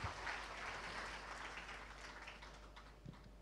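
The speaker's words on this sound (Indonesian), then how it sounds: "sekali lagi kita berikan tepuk tangan sebagai pengagungan kita kepada Tuhan yang luar biasa" A church congregation applauds during a worship service, a soft steady patter of clapping heard from some distance with no speech over it.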